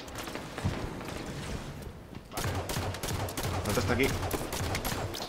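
Rapid bursts of gunfire in a Halo 5 Guardians doubles match, loud and close, crackling in dense volleys with a short lull midway, while players talk over the shooting.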